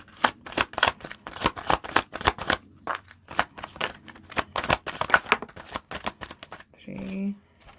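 Tarot cards shuffled in a quick series of crisp riffling bursts, loud and close, with a brief pause midway, then a short voiced sound right at the end.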